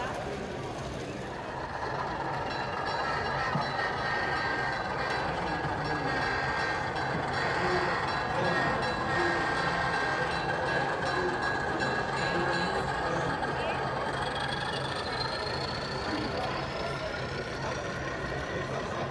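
A Green Mountain Railroad model train rumbles steadily along its track at a model train show in Albany, New York, with a continuous whirring, clattering hum throughout and voices faintly in the background.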